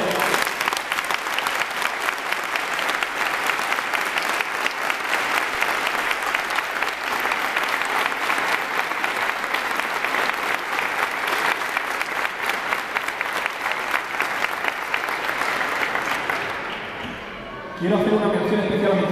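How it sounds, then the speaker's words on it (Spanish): Strong, sustained audience applause at a brotherhood gathering, a thick roar of clapping lasting well over fifteen seconds before fading, followed by the start of other sound. "pido un fuerte y sentido aplauso para ellos"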